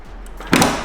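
A McLaren 720S door opens by its handle: a faint mechanical click, then a brief louder latch release and clunk as the door swings free, close by.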